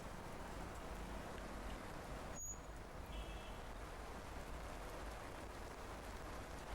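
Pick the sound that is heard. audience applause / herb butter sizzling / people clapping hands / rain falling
rain falling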